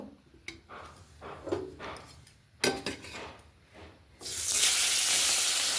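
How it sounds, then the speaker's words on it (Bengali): Large pieces of katla fish going into hot oil in a pan, a few soft clinks and scrapes at first, then a sudden loud, steady sizzle rising and holding to the end. "তেল গরম হয়ে গেছে। এবারে মাছগুলো ভেজে নেব।"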